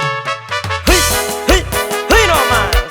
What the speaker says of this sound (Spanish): Compa Frankie, vámonos con esta chilenita, recordando a todos los paisanos de San Juan Mixtepec con la música de su tierra